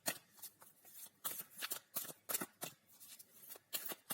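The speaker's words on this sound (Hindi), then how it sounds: "हम एक और कार्ड निकालेंगे।" Tarot cards shuffled and drawn during a pick-a-card reading, a close, soft series of papery riffles and flicks in uneven bursts with short pauses, no speech.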